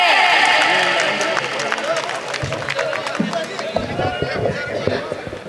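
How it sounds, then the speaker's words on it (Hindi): A rally crowd at a political public meeting breaks into loud, dense applause that fades as scattered voices and movement take over. "जोरदार तालियों के साथ स्वागत करें।"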